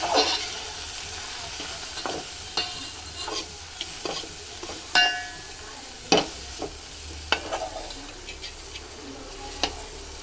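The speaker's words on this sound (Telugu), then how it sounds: "దీంట్లోనే కొంచెం పసుపు వేసుకొని వేయించుకుంటే పసుపు పచ్చివాసన పోతుందంట" Tamarind thokku frying with turmeric in a pan, a soft continuous sizzle broken by irregular scraping and clinking strokes of a spoon stirring, no talk.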